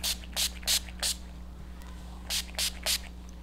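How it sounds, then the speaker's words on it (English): Short hissing bursts of aerosol hair shine spray on long hair, three quick ones, a pause, then three more, close by over a low background hum. "I'm just going to add a little bit of shine spray."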